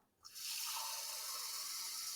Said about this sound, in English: I'm going to put some water in that pot.